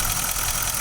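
A Nissan Titan XD's 5.0-litre Cummins turbo diesel runs at a steady idle up close, a continuous broadband clatter and drone with no pauses.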